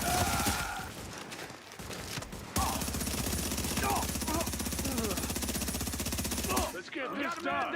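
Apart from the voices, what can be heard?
gunfire in video game The Division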